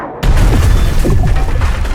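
A loud booming explosion from the film Aquaman bursts in abruptly after a brief quiet moment, a heavy low rumble with crashing debris sustained for nearly two seconds.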